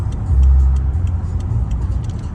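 A 2011 Rolls-Royce Ghost with a 6.6L V12 cruising on a freeway, heard as a smooth, low, steady cabin rumble with a slight swell early on and faint, regular light ticking above it.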